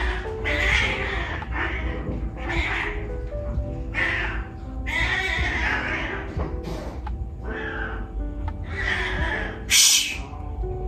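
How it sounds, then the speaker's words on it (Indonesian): A cat meows repeatedly in a room, several drawn-out cries spaced through the stretch, close and fairly loud, with a short sharp noise near the end. "kucing."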